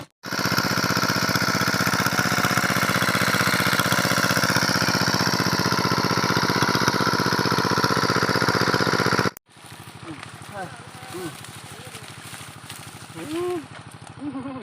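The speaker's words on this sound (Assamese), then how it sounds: "ট্ৰেক্টৰটো মেচিনটো এতিয়া আমি ষ্টাৰ্ট দি দিলোঁ" A tractor-driven machine engine runs loud and steady at close range for about nine seconds, then cuts off abruptly, leaving quieter outdoor sounds.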